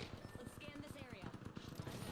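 Gunfire in a shooter video game crackles in rapid bursts and scattered shots, steady and fairly dense, mixed with game effects and player chatter.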